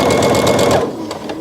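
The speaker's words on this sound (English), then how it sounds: "come back, and turn, and then stitch a bow, I would say about 3 or so inches" A sewing machine stitches a fabric face mask, running steadily and loudly, then slowing and stopping with a few short bursts at the end.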